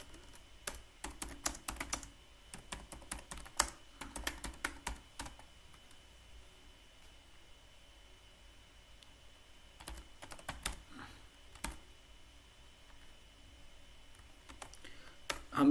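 Computer keyboard keys tapped while writing code in VS Code: bursts of quick, close clicking with short pauses between runs, no talk.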